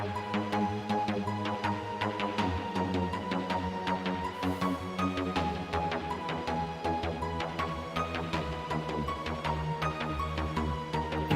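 Harp notes layered over a repeating music pattern, bright plucked tones ringing above a steady rhythmic backing that plays continuously with no talking.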